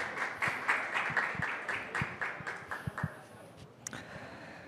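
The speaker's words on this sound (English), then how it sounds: "Please welcome Jim with applause." A conference audience at a Python developer event claps to welcome a speaker, a modest, somewhat sparse round of applause with individual claps standing out, fading toward the end.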